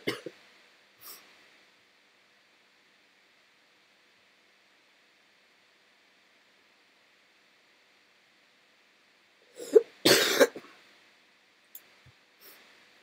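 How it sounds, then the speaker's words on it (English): A person with a cold coughs in a short, harsh burst near the end, with a brief throat sound at the start and a few small breaths or clicks otherwise in near silence. "as evident by this, that I cough in here"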